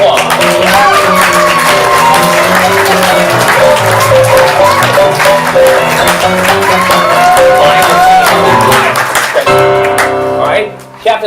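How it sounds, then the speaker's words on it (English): Audience at a ComedySportz Portland improv comedy show applauding and cheering as the players come on stage, a loud sustained crowd roar with music-like tones and voices mixed in, dropping off near the end. "Let's give them a round of applause."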